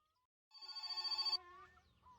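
A telephone rings in the game My Summer Car with one rapid, trilling bell burst that cuts off sharply, followed by faint low background rumble.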